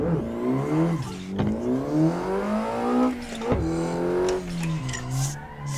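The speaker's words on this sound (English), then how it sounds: "With some handbrake, we can get it to slide a little." An all-wheel drive car pulled into a handbrake slide while drifting, the engine revving and rising and falling in pitch through the slide, loud and close with no voices.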